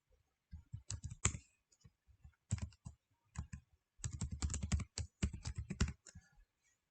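Keys clatter on a computer keyboard in quick bursts and pauses as a username and password are entered, close and crisp, with no talking.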